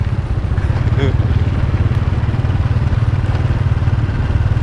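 A motorcycle rides along a forest track after days of rain, among fallen trees and soft ground, with a steady low engine drone and some rattling clatter. Someone talks over the sound throughout.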